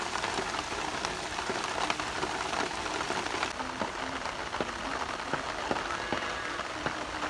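Unseasonal rain pours steadily on a farm in Porbandar, a dense, continuous hiss of drops on surfaces with scattered sharper drips, loud and close throughout.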